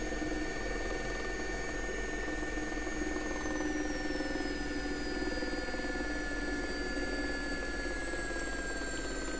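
An SA-342 Gazelle helicopter settling onto the ground in the X-Plane 11 flight simulator, a steady loud turbine whine with constant rotor drone and a slowly falling pitch.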